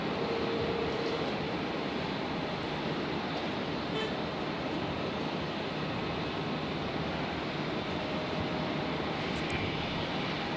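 A Jetstar airliner departs from runway 01 right at Brisbane Airport, a steady broadband roar of jet engines heard from a distance, held level and continuous throughout with no voices.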